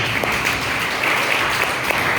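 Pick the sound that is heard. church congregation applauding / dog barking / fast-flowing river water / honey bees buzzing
church congregation applauding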